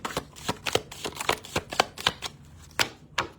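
A deck of tarot cards is shuffled by hand, giving a quick run of crisp riffling bursts and snaps at an uneven pace, close up, with no speech.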